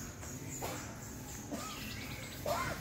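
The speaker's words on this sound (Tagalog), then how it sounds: "Marinig yung mga ibon." Faint wild birds call intermittently at the foot of Mount Nagbukel in Diffun, Quirino, with a few short chirps and whistles scattered over quiet outdoor ambience and insect hum.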